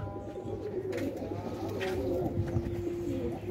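Soft purple-footed pigeons cooing close by on a rooftop in low, repeated throaty calls, with a steady background hum and some faint rustling.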